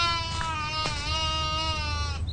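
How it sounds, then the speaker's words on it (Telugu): A young goat kid caught in a thorn fence gives one long, wavering, nasal bleat close by, with a couple of short clicks partway through and a brief rustle as it ends. "మేకపిల్ల ముళ్ళకంచెలు ఎరుకున్నట్టుంది."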